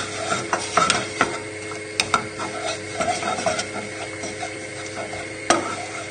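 Flour roux being stirred in a pan on the heat while it cooks out for a cheese sauce, giving scraping, clicking spoon strokes over a low background hum, close and moderately loud.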